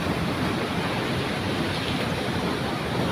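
Strong rushing water at Prensa in Calamba, Laguna, a dense, steady roar of flowing water filling the whole clip, close and loud, with no talk.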